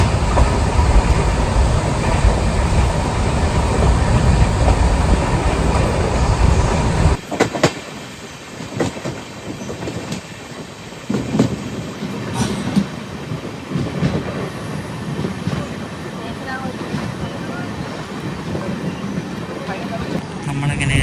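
Netravati Express sleeper-class train running on the Konkan Railway, a steady loud rumble and rattle of carriages with rhythmic wheel clatter, quieter and sparser after the first few seconds, with voices talking over it.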